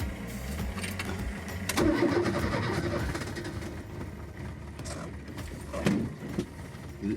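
A Renault 4L engine cranking and catching, then running with a rough, uneven idle and a few revs close by, with no talking.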